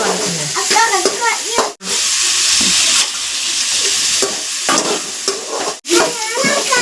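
Onions sautéing in a pan for fish curry give a loud, steady sizzle and stirring scrapes, with people talking over the cooking and two brief silent breaks.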